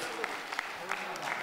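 Audience applause in a comedy stage show hall as a pop singer is welcomed on, dense even clapping throughout with a host's voice talking over it.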